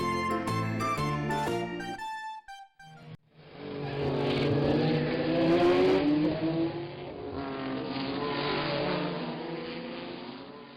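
An F1 Formula car in a video game car wash revs its engine loudly and at length with rising and falling whines, after a short musical jingle opens the clip.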